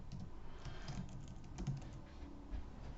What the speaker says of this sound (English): I'm going to type a password.